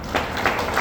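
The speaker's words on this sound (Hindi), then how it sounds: "सर के लिए एक बार जोरदार तालियां" An indoor audience at a direct-selling seminar in Nainital applauds, a dense wash of steady clapping at moderate loudness throughout.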